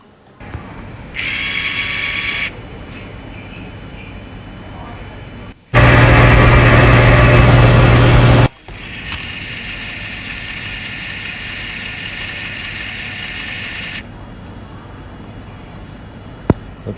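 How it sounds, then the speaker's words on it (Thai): A LEGO Education WeDo 2.0 robot vehicle's small electric motor whirs in on-off bursts of a few seconds each, running a recycling sorting mechanism, with quiet ticking and mechanical clicks between runs. "ดูว่าตัวรถของเรามีการ เคลื่อนไหวกลไกในการคัดแยกขยะอย่างไร"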